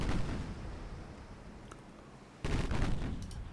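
Naval guns fire in a video game with heavy booming blasts. One salvo opens the clip, and a second louder volley follows after a rumbling lull.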